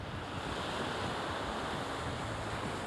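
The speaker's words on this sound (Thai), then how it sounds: "นี่นะครับ เป็นบรรยากาศ ชายหาดยูอิกามาระ" Waves on Yuigahama beach in Kamakura wash in a continuous soft surf, a steady low wash with wind across the microphone, faint and even with no voices.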